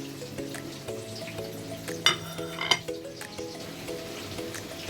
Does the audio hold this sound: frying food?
yes